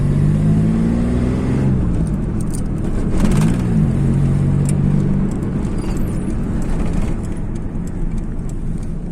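A Suzuki Cultus, the Suzuki Khyber, drives through narrow lanes, its small engine revving up and settling in a couple of rising and falling surges over a steady close, loud road rumble.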